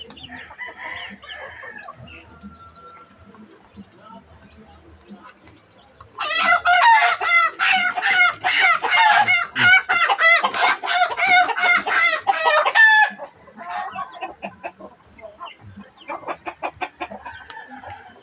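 Farm chickens cluck softly at first, then a loud, close burst of repeated calls and rooster crowing fills several seconds before easing back to scattered clucks, with no talking.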